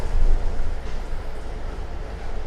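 Singapore subway metro train rumbles with a loud low-frequency drone and mechanical rattling, steady and close as if heard from inside a carriage, with no speech.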